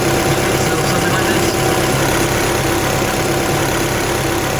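A Ford Orion fitted with an ST170 engine idles steadily, a loud, even mechanical drone with a low rumble and constant whirring, unchanging for several seconds with no voices.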